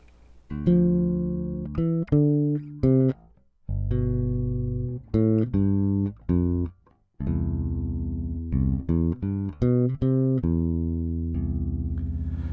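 A bass plays a stepping line of clear plucked notes, some short and some held, with deeper low notes sounding underneath.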